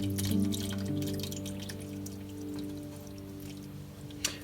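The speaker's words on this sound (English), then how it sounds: "I've got another pan, I've got a strainer, and it's as simple as pouring it in" Berry syrup poured through a strainer into a pan, a soft, steady trickle and drip over a low steady hum, with a small clink near the end.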